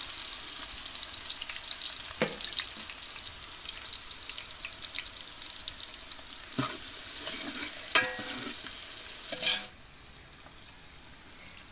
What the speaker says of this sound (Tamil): பாருங்க, வெங்காயம் நல்லா வதங்கிட்டுருக்கு.